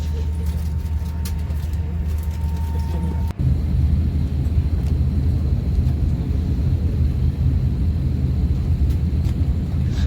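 Airplane cabin as the flight slowly starts to move, a steady low engine rumble and hum filling the cabin, with a brief thud partway through and no talk.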